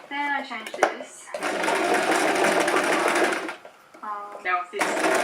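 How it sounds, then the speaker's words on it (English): A sewing machine runs in a long steady whirring burst while scrunchies are sewn, close and loud, with a person talking briefly before and after the stitching. "I'm just gonna keep on sewing"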